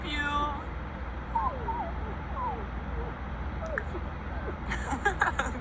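A game cat from The Sims meows several times in short, wavering calls at moderate level, set against a steady background bed with a person talking nearby.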